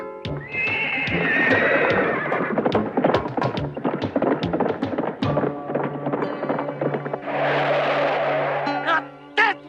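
Cartoon horses galloping, with clattering clip-clop hoofbeats, loud whinnies and neighs, and busy rhythmic hooves throughout, close and energetic under brief snatches of voice.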